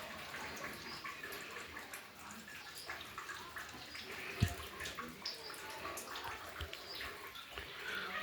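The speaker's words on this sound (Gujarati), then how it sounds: "આ શિવલિંગની ઉપર સતત ચોવીસ કલાક બારે મહિના પાણી સતત પડતું રહે છે" Water falls without pause onto a Shiva linga inside a temple, a soft continuous trickle and splash with small drips, heard faintly and close in a quiet room with a few faint background sounds.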